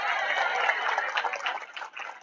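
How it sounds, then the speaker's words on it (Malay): Audience applause during a religious lecture in a mosque, a dense burst of many hands clapping close by, thinning out toward the end. "Tepuk tangan lah kata."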